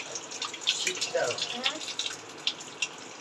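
Groceries and ginger are rinsed under a running kitchen tap, giving a steady splashing and trickling of water with small clinks and drips, fairly close and moderately quiet.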